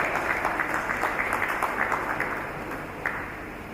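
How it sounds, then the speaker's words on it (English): Applause from a memorial celebration audience honoring a family, a steady moderate wash of many hands clapping that thins slightly toward the end. "A round of applause for the family"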